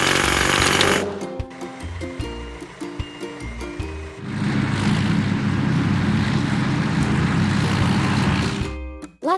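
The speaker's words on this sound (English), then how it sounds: "Hydraulic hammer." A hydraulic hammer on an earth mover breaks up large rocks, giving a loud, sustained mechanical pounding roar with rhythmic clanking and dense rumbling that fills nearly the whole stretch.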